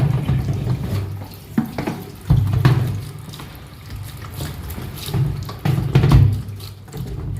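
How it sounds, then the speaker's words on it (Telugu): Running water from a tap splashes steadily into a heavily stained bucket being washed, with brief louder gushes and scrubbing splashes as the water is swirled around inside; no one talks. "బకెట్ కడుగుతున్నానండి."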